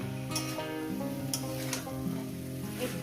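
Potatoes, spinach and small mola fish fry together in a pan with no water added, giving a steady close sizzle with faint scraping stirs throughout.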